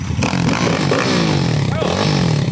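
A 190cc pit bike engine revs loud and close, its pitch sweeping up and down through a long rasping whine.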